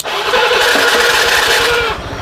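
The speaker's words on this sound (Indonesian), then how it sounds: "mesin hidup ya Kang bro, bisa dengar suara mesinnya" A Honda Vario automatic scooter that starts poorly when cold, with a jumpered CDI, cranks and fires up. It roars loud and close, holds a steady rumble for about two seconds, then drops back slightly.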